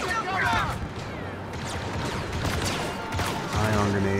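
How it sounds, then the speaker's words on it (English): Ion grenade explosions and blaster fire in Star Wars Battlefront 2 singleplayer combat: dense, continuous bursts of shots and blasts throughout, with voices mixed in. "Ion grenades everywhere."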